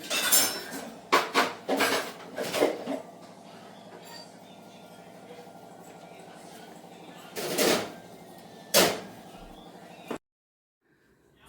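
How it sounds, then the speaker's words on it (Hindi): In a home kitchen, washed steel dishes and utensils are put away, with several sharp metallic clatters and clinks early on, a low hum between them, two more clanks later, then quiet. "ये जो बर्तन धो के गई थी वो मैं लगा रही थी।"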